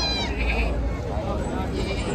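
Goats and young kids bleat at a busy goat and sheep livestock market in Chakan, high wavering cries near the start and end cutting through continuous crowd chatter.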